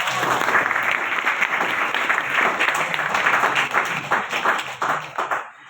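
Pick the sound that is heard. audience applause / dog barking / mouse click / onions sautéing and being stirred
audience applause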